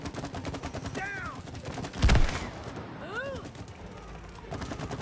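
Gunfire in a shooting video game crackles in quick bursts, with one loud close shot standing out amid steady game noise and whistling effects.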